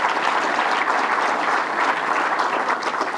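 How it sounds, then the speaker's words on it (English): Dense, steady applause from an audience at a government event with Governor Cuomo, a continuous wash of many hands clapping at full volume throughout. "Let's give him a round of applause."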